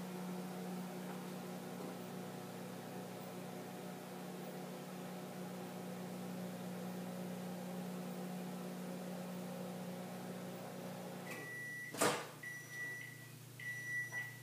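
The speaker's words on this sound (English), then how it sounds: "I will start that on 20 seconds, but you'll have to go according to your own microwave" A microwave oven hums steadily for several seconds, then a sharp click is followed by a few short beeps.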